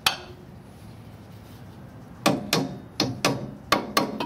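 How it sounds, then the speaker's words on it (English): A hammer taps on a part while a transmission is installed in a vintage air-cooled VW bus in a garage. After a quiet pause, six sharp, close metallic raps come in quick succession. "you take your hammer."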